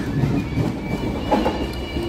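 A train departs a station on the Konkan railway near Chiplun, a low steady rumble of rolling wagons with some wind buffeting the microphone, heard close and continuous for a short stretch.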